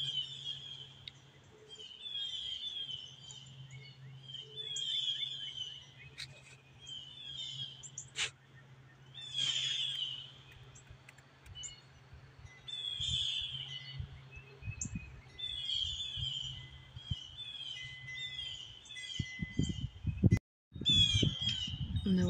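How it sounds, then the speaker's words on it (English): Agitated crows and other birds squawk and caw repeatedly outdoors before an approaching storm, harsh calls coming in bursts at moderate distance over a low steady hum, with brief rustling and a bump near the end. "The birds are pissed because the rain's coming in."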